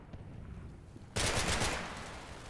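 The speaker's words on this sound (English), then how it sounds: "Oh, that's an MP40. Recognize that sound." A sudden, loud burst of rapid MP40 submachine gun fire from a video game starts a second in and then fades slightly as it continues over a quieter background.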